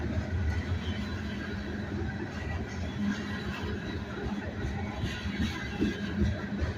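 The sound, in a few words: train railcars passing, wheels with flat spots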